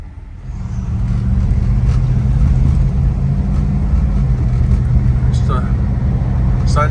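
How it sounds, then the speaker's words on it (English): A 1966 Mercury Cyclone GT cruises on a road at sunset, its engine a steady low rumble with constant road and wind noise, loud and close from inside the car. "put it in gear and go for a little drive as the sun sets."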